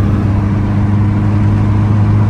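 Engine of a Hyundai Elantra N car rumbles loudly and steadily from inside the cabin, a deep continuous drone with a mild rise in revs and no talking.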